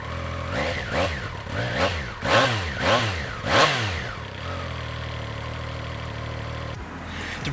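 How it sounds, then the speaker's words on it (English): A Triumph Trident three-cylinder motorcycle engine revs up and down repeatedly in sweeping rises and falls, then settles into a steady, close idle rumble. "that distinctive Triumph Triple soundtrack"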